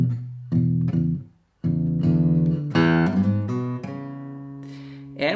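A guitar plays one bar of slow blues, with chord stabs and melody notes picked in a loose rhythm, a brief pause, then denser ringing chords near and clear, with no talking.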